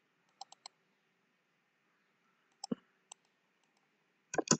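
Computer mouse clicking while working in AutoCAD: a few sharp, close clicks in small scattered bursts, with quiet gaps between them and no talk.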